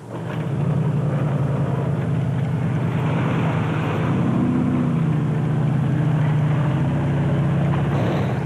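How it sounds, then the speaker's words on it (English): A race car with a big Chevy engine in the Sugarbelt 400 endurance race drones steadily and loudly throughout, its pitch rising and falling slightly as it is driven hard. "Clint Gibson and Michael Brown were pushing the big Chevy engine in the Bat Special 1 as hard as they could"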